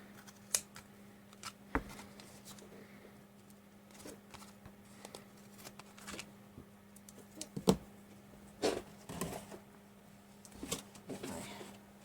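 Paper packaging from a ramen noodle package is trimmed with scissors, giving scattered crisp snips and rustles at irregular intervals, close and fairly quiet over a low background hum.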